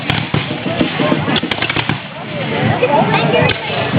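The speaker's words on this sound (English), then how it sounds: "we're going to see another volley here by the American forces" Reenactors of an American line in a War of 1812 battle reenactment fire muskets, producing a rapid scatter of sharp cracks and pops over crowd noise and talk.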